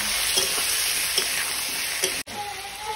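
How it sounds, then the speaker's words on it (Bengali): Potatoes and ridge gourd frying in a pan sizzle loudly and steadily, with a few soft scraping stirs and a brief dropout near the end; no voices. "দেখো আলু আর ঝিঙে দিয়ে দিলাম, দিয়ে এবারে লাল লাল করে একটু ভেজে নেব"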